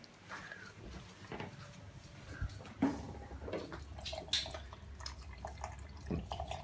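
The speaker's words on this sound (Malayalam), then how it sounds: "വെള്ളം ഒഴിക്കുമ്പോൾ ശ്രദ്ധിക്കുക, വെള്ളം കിള്ളോ കിള്ളോ കിള്ളോ കിള്ളോ എന്ന് കേൾക്കണം." A thin stream of water trickles into flour while dough is being mixed, giving soft, faint, intermittent dripping and gurgling sounds over quiet room noise.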